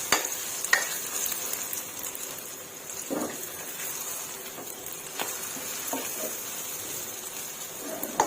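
An omelette with cha-om frying in a pan, giving a steady, quiet sizzle and crackle throughout, with a few soft stirring or scraping touches and no talking.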